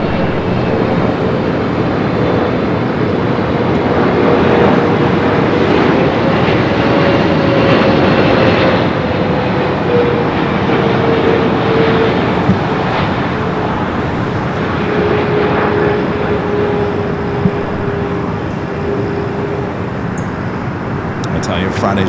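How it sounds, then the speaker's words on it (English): An EVA Air Boeing 777-300ER airliner on flight 6 from Taipei roars steadily at Los Angeles LAX, a loud continuous engine rumble with a slowly gliding whine that drifts down as it passes. "it's flight 6 coming from Taipei on this 777"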